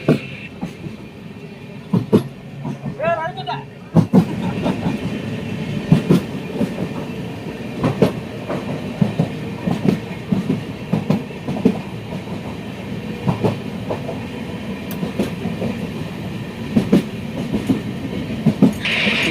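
Ernakulam-Velankanni Express passenger train running through Cheriyanad railway station without stopping, a steady rumble with rhythmic clacking wheels continuing throughout, briefly quieter near the start.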